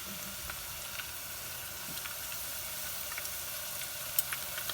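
Potato chips sizzle in a frying pan, a steady, fairly quiet crackle and hiss with scattered small pops, heard close and alone without talking.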